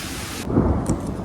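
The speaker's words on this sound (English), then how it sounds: "I'm gonna be moving because it's thundering and lightning" A low rumble of thunder rolls through during a storm in the woods on a deer hunt, loud and close, with rain hissing steadily underneath.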